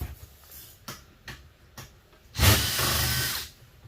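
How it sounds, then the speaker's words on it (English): Several brief ticking bursts from a power drill used to dismantle a dishwasher, then a louder whirring run of about a second before it winds down. "switch your bits here in the drill"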